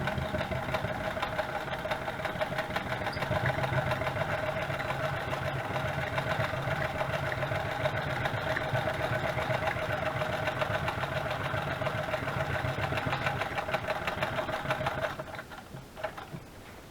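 Sewing machine stitches in a long, steady, rapid run, a close, even mechanical hum and patter that stops near the end, leaving a few faint clicks.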